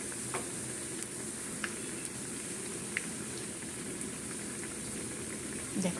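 Mung dal puli dumplings frying in hot oil, a steady dense crackle and fizz that runs evenly throughout with a few sharper pops standing out.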